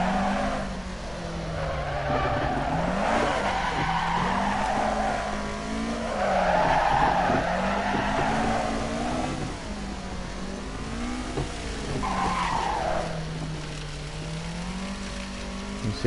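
A car drifting around a continuous drift park course in the Assetto Corsa racing game, with a steady engine drone and long wavering tire squeals rising and falling throughout, loud and alone.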